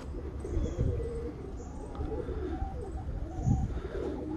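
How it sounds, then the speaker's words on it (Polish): Pigeons cooing at a loft during a training session for young birds, with repeated soft throaty coos from several birds close by, some light chirps and faint wing flaps over outdoor background noise. "No i gołąbki się osiadły."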